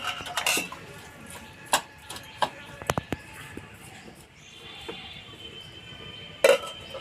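Cut morola fish being mixed with salt and turmeric powder in a metal bowl, with sparse clinks and taps of a spoon against the dish, quiet and close, separated by soft handling sounds.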